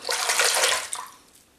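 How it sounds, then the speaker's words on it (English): Warm tap water runs to rinse a slant double-edge safety razor in a bathroom sink: a close, loud, broadband rushing stream that cuts off, trailing into quiet drips, with no talk. "razor under the tap, under warm water"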